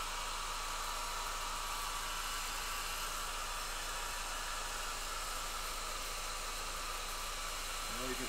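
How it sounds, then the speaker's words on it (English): A steady, loud broadband whoosh of a hair dryer blowing continuously, with faint voices underneath. "Watch as Chris uses a hairdryer for like half an hour of the video."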